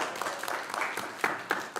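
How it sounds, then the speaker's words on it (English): An audience at a city council meeting in Norman claps briefly, a modest patter of hands in a room, fairly close and unaccompanied by talk. "let's clap for that"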